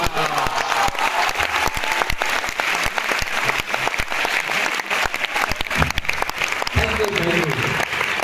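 Audience applause at a business meeting, a dense steady clatter of many hands sustained throughout, with faint voices and a brief tonal murmur near the end.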